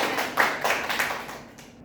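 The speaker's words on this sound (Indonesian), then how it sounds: "Tepuk tangan." Third-grade schoolchildren in an elementary classroom clap together in a short, rhythmic burst of a few distinct claps that quickly tapers off.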